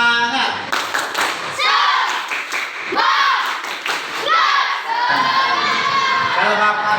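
Children in a classroom coaching session doing a rhythmic clapping chant, bursts of sharp group claps alternating with loud shouted and chanted voices, close and lively.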